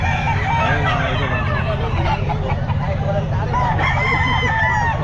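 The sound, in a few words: rooster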